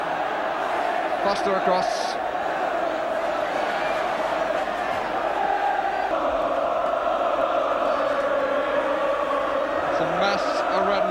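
Derby County supporters roar at a packed 1983 FA Cup fifth-round tie against Manchester United, a steady loud wash of stadium crowd noise running throughout beneath a commentator's voice.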